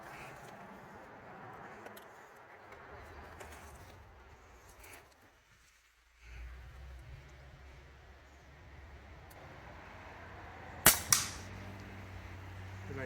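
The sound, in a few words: airgun shot at a pop can from 40 yards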